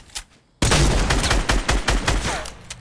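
Shotgun fire in Fortnite: a silent gap, then a loud blast followed by a rapid string of close, sharp shots with reverberant tails, no talking.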